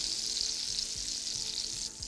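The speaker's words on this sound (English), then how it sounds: "Just going to check these apples, see how they're doing. They're cooking nicely," Apples cooking in a wood-fired oven give off a soft, steady sizzle, faint and even, with a few low thuds near the end.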